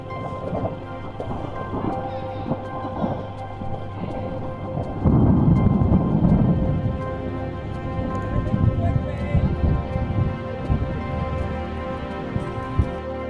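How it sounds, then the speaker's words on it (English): Deep thunder rolls and rumbles from a thunderstorm building over an alpine lake in the Rockies. A loud swell comes midway, and steady rain patters throughout. Faint voices can be heard in the background. "the skies are brewing up a good thunderstorm that we would soon find ourselves trapped in"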